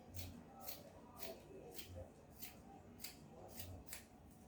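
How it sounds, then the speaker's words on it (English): Scissors snip through fabric for a kimono jacket, about eight quiet, close crisp cuts in a regular rhythm, with faint rustling of cloth in a calm room. "Now here I have the fabrics are unequal, so I went ahead to trim it off."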